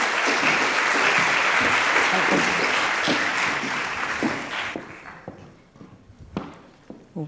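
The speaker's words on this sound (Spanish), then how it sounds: "Un fuerte aplauso para Sara." Audience applause for a speaker at a Pi Day talk, a full crowd clapping strongly for several seconds before fading into scattered claps and room noise.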